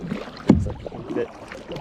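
Kayak paddling on water at Beavers Bend State Park, a near splash and swish of a paddle stroke mixed with wind and soft water movement.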